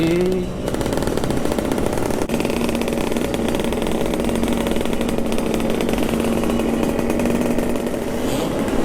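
A Yamaha RX King two-stroke motorcycle revving at a street meetup in Makassar, a harsh rapid rattling exhaust blare sustained loud and near for several seconds, with a short rev change at the start and crowd noise faintly underneath.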